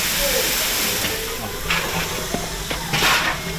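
A steam train sits at a station stop, letting off bursts of hissing steam: a steady broad hiss with louder puffs near 1.7 and 3.1 seconds, plus faint clanks and a murmur of voices in the background.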